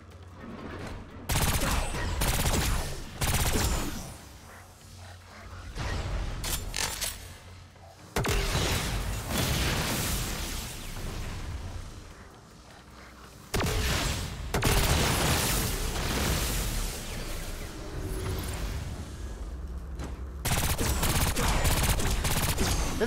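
Sustained bursts of turret gunfire in the video game Agents of Mayhem, loud and dense with rapid shots and booming impacts that come in long waves with brief lulls, no voices.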